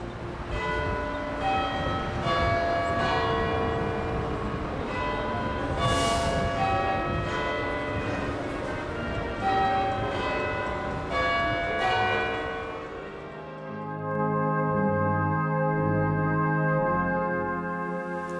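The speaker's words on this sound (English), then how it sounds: "Halifax town is one of a few boroughs allowed to use the Westminster chimes to announce the time" Church bells in Halifax ring out the Westminster chimes, a sequence of resonant, overlapping bell strokes that swells and lingers, followed by deeper tolling as the ringing decays.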